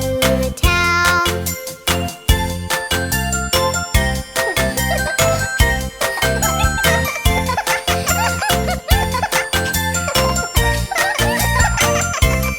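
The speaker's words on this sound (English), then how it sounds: "The ice cream truck bell goes ding-a-ling, ding-a-ling, ding-a-ling." A cartoon ice cream truck bell tune, bright jingling chimes ringing in a quick repeated melody over a bouncy musical backing, loud and continuous.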